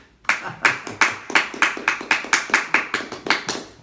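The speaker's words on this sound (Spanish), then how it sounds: "Merece un aplauso al Señor y la Virgen María." A small group at a religious gathering claps for the Lord and the Virgin Mary, with close, loud claps falling in a steady, even rhythm about three per second.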